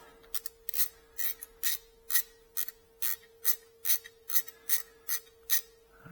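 Hand tools work loose the factory exhaust on a BMW R nineT Racer, with corroded flange bolts: a steady run of about fifteen sharp, close ratcheting bursts roughly every half second, with no voices.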